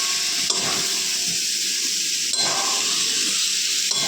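Soybean chunks stirred into a sizzling spice mix in a frying pan, with a constant hissing sizzle broken by three scraping stirs spaced about two seconds apart.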